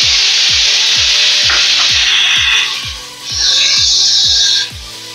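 Cut pumpkin pieces fry in hot oil tempered with black cumin, giving a loud, bright sizzle that swells and eases, with a regular pulsing knock below it and no speech.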